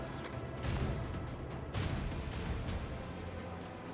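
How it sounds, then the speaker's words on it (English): Heavy booming macro cannon fire from Warhammer 40k: Rogue Trader rumbles in overlapping blasts, a dense barrage of deep thuds and crashes that keeps going without pause. "Unleash the storm of macro cannons."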